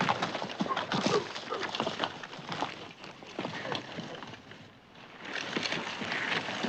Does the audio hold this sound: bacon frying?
no